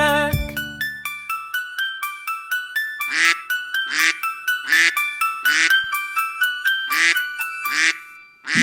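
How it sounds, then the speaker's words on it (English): Cartoon ducks quack in a children's song about five little ducks, a rapid series of bright honking quacks in rhythmic bursts over a cheerful synthesized melody, loud and near with no talk. "Sad mother duck said quack, quack, quack"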